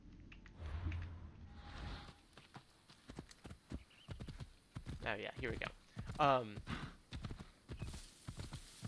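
Hooves of a traveler's horse clop rhythmically in an ancient Greek war game as the horse sets off, loud and close, with a brief whinny and someone talking over the hoofbeats.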